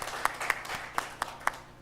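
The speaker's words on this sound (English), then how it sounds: "Let us give him a hearty clap again once more." Audience clapping at a disaster management report launch, sparse, rhythmic claps roughly every quarter second, fairly faint over a hall's background murmur.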